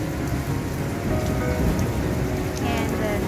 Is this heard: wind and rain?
yes